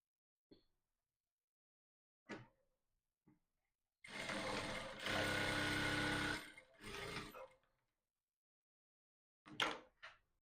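A sewing machine stitches a corset's seam allowance in bursts, with a long steady run of close, loud machine whirring between short knocks and clicks, then quiet gaps.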